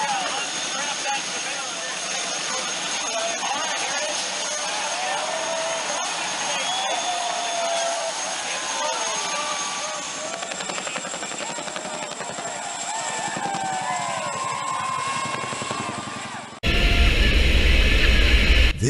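A heavy-lift Chinook helicopter flies while delivering a race car to a Texas racetrack, its rotors and turbine a continuous loud roar with a high whine, a voice talking over it, ending in a sudden louder blast.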